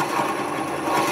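A wood lathe spins at about 380 RPM while a drill bit, up to around 2 1/8 inch, bores into turned mimosa wood, giving a steady droning hum with a faint rhythmic flutter and no talk.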